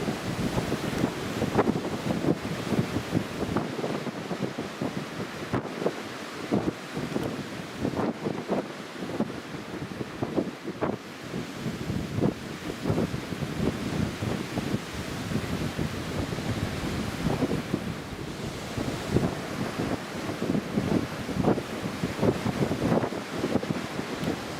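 Strong storm wind gusting across an open airport apron at Newcastle International Airport during Storm Otto, a continuous loud roar buffeting the microphone with surging peaks and no voices.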